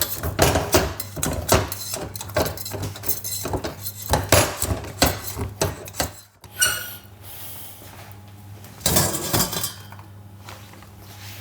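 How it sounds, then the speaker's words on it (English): A knife works around the edges of a freshly baked sourdough loaf, freeing it from its pan with a run of close scraping clicks and metallic taps, then a quieter stretch of soft scraping. "grab my knife again and just free up the edges"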